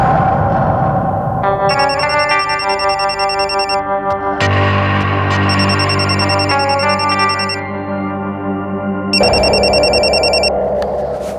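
A telephone ringing with an electronic, heavily processed tone, with repeated bursts of chiming rings separated by short pauses and layered with sustained distorted tones.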